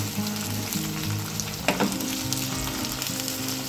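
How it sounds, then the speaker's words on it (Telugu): Ginger garlic paste fries in hot oil for a chicken curry, a dense crackling sizzle close by with a brief clatter of stirring midway, steady and moderately loud without talk. "ఇది కొద్దిగా పచ్చివాసన పోయేలాగా మనం వేయించుకోవాలి."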